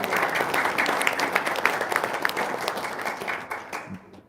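An audience at a religious talk claps together in a lively, dense burst that holds steady and then thins out toward the end, when a voice begins faintly.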